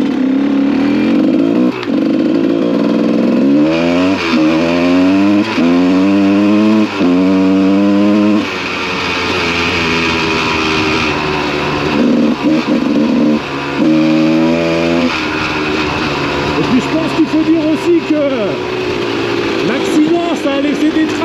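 GasGas 300 two-stroke dirt bike engine revving and pulling hard through repeated rising throttle sweeps, loud and close, with someone talking over much of it.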